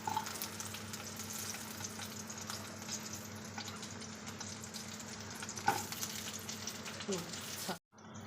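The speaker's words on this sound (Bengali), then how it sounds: "নিয়ে এই তেলের মধ্যে ফোড়ন দেব আর একই সঙ্গে দেব এই যে চারটে কাঁচা লঙ্কা এবার দিয়ে দিচ্ছি আলুগুলো" Potatoes and green chilies frying in hot oil give a soft, continuous sizzle with occasional stirring clicks, fairly faint under a low steady hum, ending in a brief cut to near silence.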